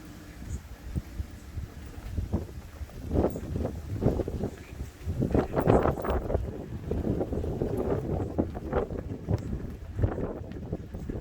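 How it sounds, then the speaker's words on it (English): Steady wind buffets the microphone in a low, rumbling roar that swells and eases, with faint rustling beneath, on an Island Packet 320 sailboat. "It's getting windy."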